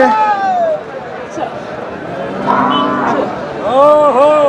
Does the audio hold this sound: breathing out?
no